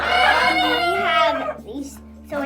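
Chickens on a family farm cluck and cry close by inside a coop with nesting boxes, a loud, drawn-out vocal call followed by shorter clucks tapering off.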